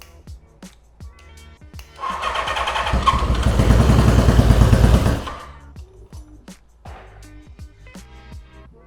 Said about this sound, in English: maybe if I give it a little bit of throttle